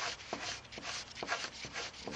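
Blade scraping green chafe off yucca leaf fibers, a series of soft, rhythmic rasping strokes, close and quiet, with a few brief sharper scrapes.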